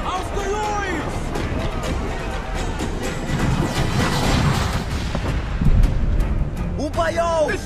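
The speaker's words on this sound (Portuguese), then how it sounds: "Aos canhões!" Cannon fire from a naval battle in the video game Assassin's Creed Black Flag: heavy booming blasts and crashes under a dense roar of battle noise, with shouting voices throughout.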